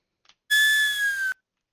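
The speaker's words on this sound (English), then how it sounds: "The whistle on its own sounds like this." A recorded whistle, captured as raw material for monster roar sound design, gives one steady, clear, high tone lasting under a second, heard alone and close after a faint click.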